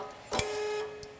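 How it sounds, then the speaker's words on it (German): An electric actuator cylinder moves inside a form-and-pierce tool, giving a short mechanical whirr of under a second with a sharp click at its start and a faint tick afterward, against a steady background hum. "Man kann jetzt hören, wie der Stellzylinder elektrisch verfährt."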